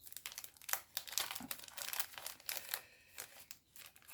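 Thin sticker sheets crinkle and crackle as hands fumble with them, quick bright rustles coming in irregular bursts close up, with no talking.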